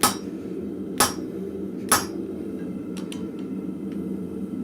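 A blacksmith's hammer strikes an anvil three times at roughly one-second intervals while punching a hole in hot steel, each blow sharp and ringing and up close, followed by a few lighter metallic taps.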